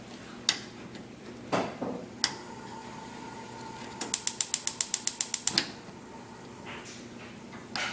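A stove knob clicks and ticks as it is turned on for cooking, a rapid run of about a dozen sharp igniter clicks amid a few scattered clacks, close and fairly quiet.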